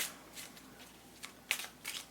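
Tarot cards shuffled by hand in a quiet room, several soft riffling bursts spaced apart, close and moderately quiet with no talking.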